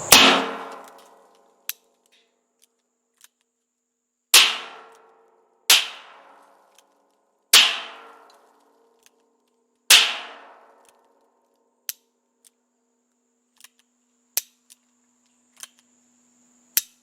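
Holes are shot through a metal burn barrel for drainage, heard as a series of sharp, loud bangs with quick ringing decays, about six strong reports spaced a second or two apart. Fainter clicks and snaps fall between them, and nobody talks.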